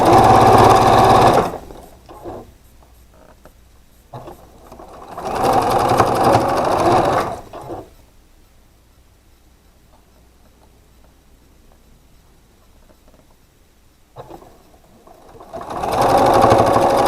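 A sewing machine stitches quilt block pieces in loud, close bursts of a few seconds each, separated by quiet gaps while the fabric is repositioned.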